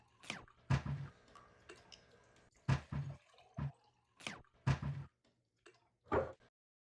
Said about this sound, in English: I took the sound of closing the cabinet.